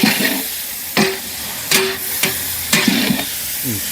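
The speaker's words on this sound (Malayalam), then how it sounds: "ഉള്ളി ചേർക്കാം ഉപ്പും കൂടി ഒന്ന് ചേർത്തതിന് ശേഷം നമുക്ക് നന്നായൊന്ന് ഇളക്കണം ഇളക്കി കൊടുക്കാം" Onions and salt being stirred in a frying pan for chicken sukka: a steady close sizzle broken by several sharp scraping strokes and clacks of a spoon against the pan.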